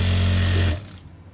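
A sewing machine stitches a shirt collar with a loud, close, rapid motor hum that runs steadily and then cuts off abruptly, leaving a faint fading tail.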